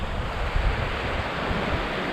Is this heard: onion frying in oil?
no